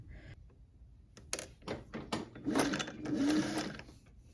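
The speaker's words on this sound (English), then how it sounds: "going to lay my insertion stitching right on that stay stitch line" A sewing machine runs in short close bursts, stitching insertion along a stay-stitch line on a knit top, its motor whirring up and holding with a few mechanical clicks.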